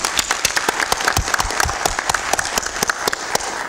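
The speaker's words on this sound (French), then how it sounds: "Je vous invite à les applaudir." Applause from a modest audience at a national occupational medicine conference at Sétif 1 University, Algeria, with individual hand claps clearly distinct in a lively, uneven rhythm.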